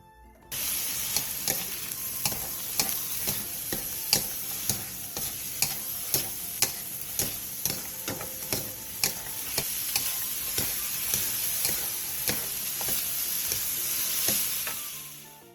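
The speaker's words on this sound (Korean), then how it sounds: "중약불로 줄여 2분에서 3분 정도 더 볶아주세요" A seasoned Korean side dish with soju, soy sauce, oyster sauce and plum syrup stir-fries over medium-low heat, a constant dense sizzle punctuated by regular, rhythmic spatula scrapes about every half second, no talk.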